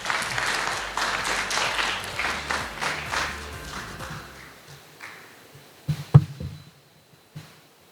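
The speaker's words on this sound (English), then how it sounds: "please give a round of applause" Audience applause at an international arbitration colloquium in Sabah, a moderate round of clapping that gradually fades out, followed by a few isolated knocks or taps.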